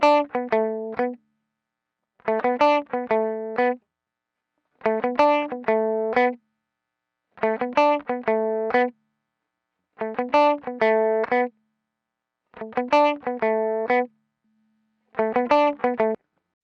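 An opto compressor running through the Goodhertz Tupe plugin processes a mix, heard as seven harmonic, chord-like bursts in a steady repeating rhythm, each about a second long and separated by short silences.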